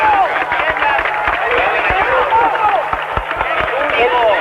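Stadium crowd at a Paraguayan league football match, Cerro Porteño against Tacuary, applauding a player after the final whistle: dense, steady clapping and crowd noise with a commentator talking over it throughout.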